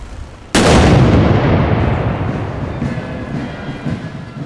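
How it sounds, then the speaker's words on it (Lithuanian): A historic cannon fired by Lithuania's National Defence Volunteer Forces in a ceremonial salute lets out one sudden, heavy boom, followed by a long rumbling echo that slowly dies away outdoors. "Iš istorinės krašto apsaugos savanorių pajėgų patrankos iššaunamos pagarbos salvės."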